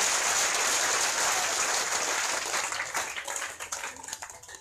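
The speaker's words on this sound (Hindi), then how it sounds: "आप लोग आपका परिवार के लिए खूब जोरदार ताली बजा जितने जोर जोर से।" Loud, sustained applause from a large audience at a Bhagwat katha gathering in Bangalore, dense clapping that thins out toward the end.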